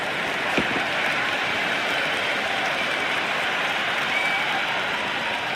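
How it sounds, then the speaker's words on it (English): A large, enthusiastic crowd in the stands at an India versus England T20 cricket match keeps up a steady, dense roar of cheering and applause, distant and continuous with no clear peaks. "There's a buzz, a real buzz coming from the stands."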